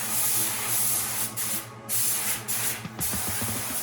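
An Eastwood paint gun sprays paint onto a 1955 Chevy in a steady, loud hiss that breaks off briefly a few times before starting again.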